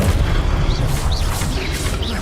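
A Confringo blast spell in Hogwarts Legacy lands with a heavy low boom and rumble, with whistling chirps of game effects layered above it.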